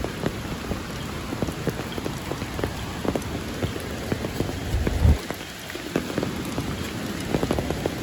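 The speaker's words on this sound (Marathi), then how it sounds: "पाऊस तसं पडताय भरपूर" Steady heavy monsoon rain drums on surfaces during a flood in the Konkan, a constant close hiss with scattered heavier drops and one dull thud midway.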